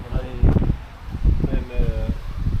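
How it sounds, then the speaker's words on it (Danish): Wind gusts in rough, rushing bursts just before a rainstorm, loud and close, rising and falling over a couple of seconds with no voices over it. "Ej, nu kommer vinden."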